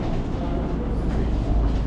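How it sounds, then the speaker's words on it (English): Subway train at the 42nd Street station in Times Square, New York, giving a loud, continuous low rumble and rolling rail noise that swells slightly toward the end. "Headed back onto the train."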